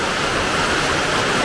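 Summer rain pours down steadily around a house, a dense, even rushing hiss with no breaks or voices.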